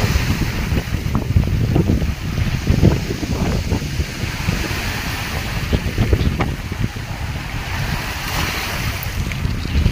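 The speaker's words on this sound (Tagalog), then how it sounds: "Kaya naman dito, ang lakas ng alon." Loud, continuous crashing surf from strong ocean waves during a southwest monsoon churns throughout with heavy wind buffeting, with no pauses or voices.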